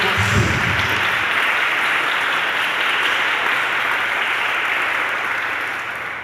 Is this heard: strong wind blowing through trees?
no